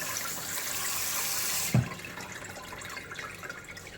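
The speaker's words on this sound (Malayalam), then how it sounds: "ലാസ്റ്റ് ഒരു വെള്ളം കൂടെ കഴുകിയിട്ട് നമുക്ക് ഉപയോഗിക്കാം" Pieces of goat head are rinsed in water in a kitchen: running, splashing water flows for a moment, then cuts off with a soft knock, leaving quiet dripping and faint handling.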